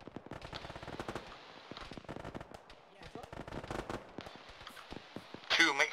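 Military video game battle with bursts of machine-gun and rifle fire crackling throughout, dense rapid shots near and far, with radio voices talking over the gunfire and a louder burst near the end.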